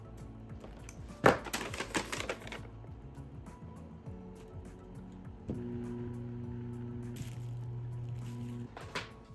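A small electric motor for a home-built, 3D-printed rock tumbler test-runs with a steady, low humming whine, broken by handling clicks and clatter nearby.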